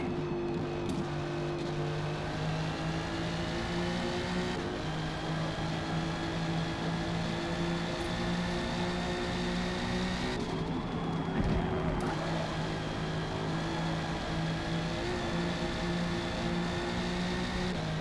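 McLaren P1 engine racing in a video game, a continuous loud high-revving drone with steady harmonic tones that shift slightly as gears change, filling the whole stretch without talk.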